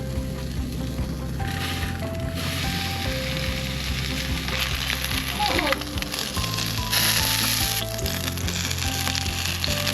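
Fish skin fries in a pan with a steady, loud sizzle and crackle, pressed flat under a fishing weight, the hiss continuous throughout with faint clinks.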